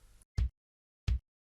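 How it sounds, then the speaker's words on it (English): Two short, deep booming sub kick hits in a seben (sebene) beat made in FL Studio, separated by about seven tenths of a second, low and thumping with brief decay. "The sub kick sounds like this."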